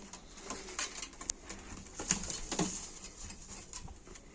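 Pigeons in a loft coo softly, mixed with scattered sharp taps and light flutters of movement; the sounds are quiet and near, with no speech.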